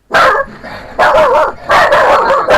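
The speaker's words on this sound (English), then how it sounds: "Barking." A dog barks loudly and close by, three sharp yelping barks in quick succession with brief whiny tails between them.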